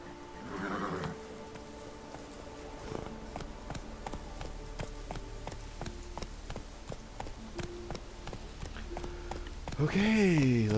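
Roach, Geralt's horse in The Witcher 3, gallops with a steady rhythmic clip-clop of hooves, moderately close, while someone talks over it and the horse gives a whinny at the start and another at the end.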